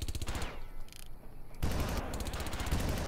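Rapid automatic gunfire from the Far Cry shooter, dense repeated bursts firing almost continuously, briefly thinning before resuming loud and close.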